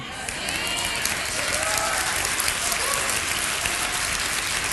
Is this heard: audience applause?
yes